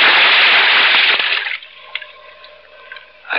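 A scuba diver plunges from the surface into open water, making a loud rushing splash for about a second and a half that drops abruptly into quieter underwater bubbling with a few faint ticks and gurgles.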